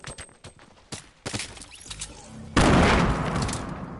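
SMG fire in a video game: sharp scattered shots crack out at first, then a loud continuous burst of rapid gunfire erupts and holds for the final second and a half.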